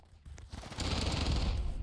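Gunfire in the Roblox video game Hypershot, a few sharp shots building into a dense, sustained burst of rapid fire, loud and close, with no talk over it.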